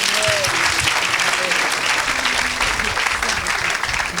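A worship congregation applauds and cheers for the Lord, a dense, steady wash of clapping and voices close by, sustained without pause.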